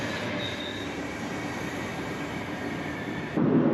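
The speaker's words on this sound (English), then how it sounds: "a southbound VIRM unit in the now standard NS livery of blue, yellow and muck" A southbound NS VIRM double-deck electric train rumbles past a station platform on the Amsterdam to Den Helder line, a close, steady rolling roar with faint wheel squeal that swells into a heavier thump at the end.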